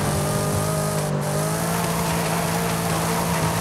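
A Hennessey Camaro Exorcist roars along on the move, its loud, steady engine drone with a deep, rich growl held throughout, close and unbroken.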